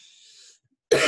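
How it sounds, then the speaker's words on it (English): A single sharp allergy cough bursts out at the end, following a faint hiss and a moment of near silence. "forgive me for my allergy coughing."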